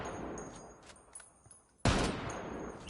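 Gunfire from the tactical shooter Ghost Recon Wildlands in Ghost War mode: quiet scattered ambience, then a sudden loud burst of shots that swells into sustained firing near the end.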